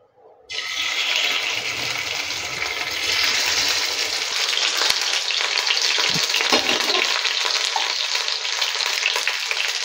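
Chilli chicken pieces fry in hot oil over a medium flame, a steady broadband sizzle that starts abruptly and holds loud and close throughout with bubbling crackle and no voices.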